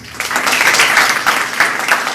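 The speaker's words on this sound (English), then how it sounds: "I think you all deserve a round of applause" A crowd at a Republic Day program in Aurangabad breaks into dense, steady applause, many hands clapping at once close by, sustained without a pause.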